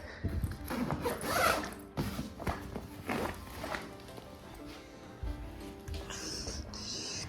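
A zipper is pulled shut on a bag packed full of clothes, a close, rasping run of several quick strokes with short pauses and light handling noises between them.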